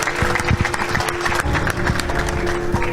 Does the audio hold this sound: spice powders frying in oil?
no